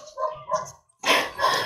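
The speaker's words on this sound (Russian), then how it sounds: "У Вали под забором коробка со щенками, а?" Puppies left in a box under a fence yelp and whimper in short, close bursts: a few small cries, a brief pause, then a louder run of yips.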